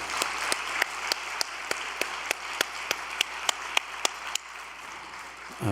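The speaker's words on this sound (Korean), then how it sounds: "박수 한번 올리겠습니다." Audience at a church gathering gives sustained applause, a dense, even patter of clapping at moderate distance that fades out near the end.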